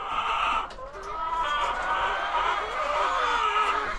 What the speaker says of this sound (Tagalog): Once na nagkakak na yung mga manok, ayan, malapit nang mangitlog yan.